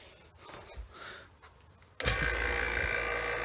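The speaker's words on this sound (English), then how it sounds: "So the vacuum pump's on." A vacuum pump on the AC system of a 2011 Toyota Camry SE 2.5L starts abruptly after light handling noises, then runs as a loud, steady mechanical whir close by.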